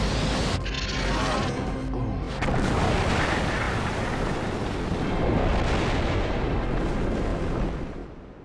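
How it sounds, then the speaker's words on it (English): A deep, rumbling explosion boom from the sci-fi TV series Farscape fills the whole stretch, loud and sustained aboard a spaceship, with a sharper crack early on before the roar rolls on and fades at the end. "A most satisfying boom indeed"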